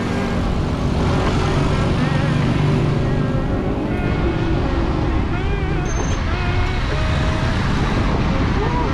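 Rush hour road traffic at Sunset Park, a steady loud roar of passing cars and engines with a continuous low rumble, recorded from a bicycle, with voices talking over it.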